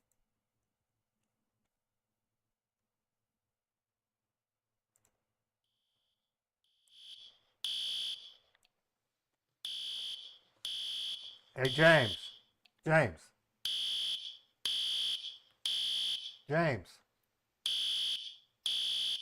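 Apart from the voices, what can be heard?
fire alarm sounding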